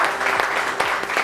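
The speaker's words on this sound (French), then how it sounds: "Applaudissements pour Shekina Yato, s'il vous plaît." A brief burst of studio audience applause for a guest on a French-language talk show, steady dense clapping with no gaps over its short length.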